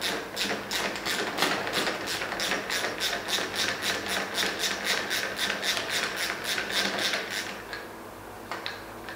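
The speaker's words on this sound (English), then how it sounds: "To do that, we need to remove this top cap, it's a 24mm socket." Ratchet with a 24mm socket turning a RockShox Solo Air fork top cap, a rapid run of close, even clicks that stops near the end.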